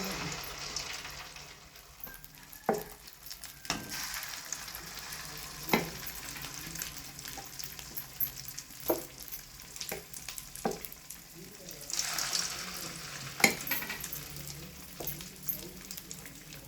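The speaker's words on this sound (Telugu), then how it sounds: "అన్నింటితో తిప్పుకోవాలి, ఎర్రగా అయితే కాల్చుకోవాలి మంచిగా అన్నీ" Coconut vermicelli punugulu fry in oil with a soft, steady bubbling sizzle, punctuated by occasional sharp clinks from stirring, fairly quiet and close.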